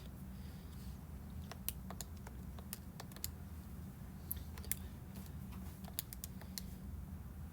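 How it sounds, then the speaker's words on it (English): Rapid, uneven keystrokes on a computer keyboard clatter in short bursts over a steady low hum, close and fairly quiet, with no voices. "I'll type that in really fast."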